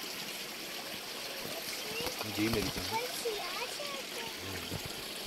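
Cold water trickles and flows from inside a mountain in Kalam, a faint, continuous burble heard under people talking nearby.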